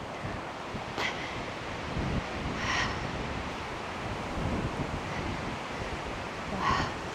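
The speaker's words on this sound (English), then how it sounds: "It's very windy." Gusting wind buffets an outdoor microphone on a solo morning forest hike, a steady rushing roar with a few brief louder swells and no talking.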